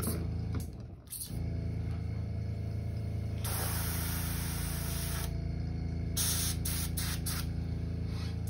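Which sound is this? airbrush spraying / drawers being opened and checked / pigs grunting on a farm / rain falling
airbrush spraying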